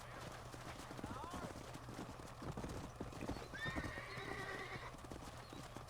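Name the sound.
horse hooves clip-clopping and whinnying, Red Dead Redemption video game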